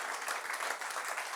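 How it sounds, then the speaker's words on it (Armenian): A church congregation claps together during worship, a dense, steady patter of many hands heard close and continuous, with no clear voices above it. "եկ բարձր ծափարենք"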